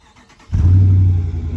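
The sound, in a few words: Dodge Charger engine cold start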